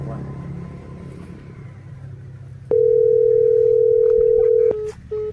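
A telephone dial tone sounds loud and steady for about two seconds, then breaks into short repeated beeps, heard after a stretch of background voices and street rumble while someone makes a phone call.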